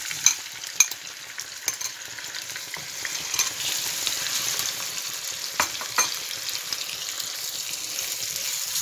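Liver frying in hot oil in a pan, a loud continuous hiss of sizzling throughout, with a few sharp utensil taps early on and occasional scraping as it is stirred.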